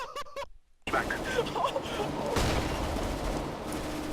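Rapid gunfire in the Counter-Strike video game bursts in after a short silence and becomes a dense, continuous barrage of loud shots and impacts, with a voice briefly heard at the start.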